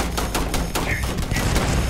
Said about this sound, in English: I keep almost shooting Andrea.